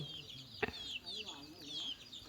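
Chickens on a farm cluck and chirp in short rising calls, fairly faint and a little distant, with one sharp knock partway through and a murmur of voices in the background.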